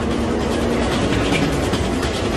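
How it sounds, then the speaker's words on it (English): A subway train enters an underground platform with a loud, unbroken roar of wheels and rushing air, filling the whole stretch with no voices. "When a train enters an underground platform, it pushes a rush of air ahead of it."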